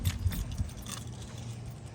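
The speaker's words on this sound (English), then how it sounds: "all right, we got the keys" Keys jangle close by for about a second, a few bright metallic clinks at the start, then a steady low rumble continues underneath, likely an idling 2022 Honda Grom motorcycle nearby.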